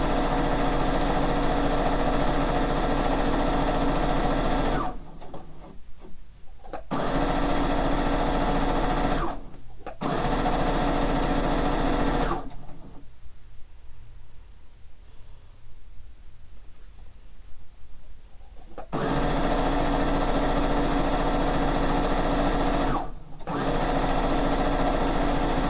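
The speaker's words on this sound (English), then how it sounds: "Now we're sewing." A sewing machine stitches two quilt strips together for a fish-themed quilt, its steady whirring motor running loud and close in several long bursts broken by short pauses and one longer stop.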